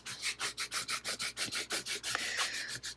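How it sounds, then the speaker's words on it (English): Oramask stencil film being scraped down onto a surface with rhythmic, rapid rubbing strokes, about a dozen even back-and-forth passes close up, with no talking. "So then just scrape it down as good as you can."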